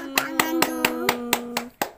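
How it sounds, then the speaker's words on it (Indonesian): Hands clap about seven times in an even, steady rhythm, close and crisp, with a sustained tone ringing underneath during a session with an autistic child. "Oke, tepuk tangan dulu."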